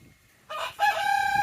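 A yellow hen in a backyard chicken run crows after a brief quiet pause, a loud, close, drawn-out call rising in two strained bursts.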